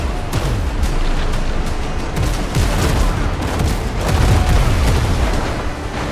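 Ship cannons fire a broadside volley in the pirate sailing game Windrose, a dense run of overlapping booming shots rolling on loudly for several seconds.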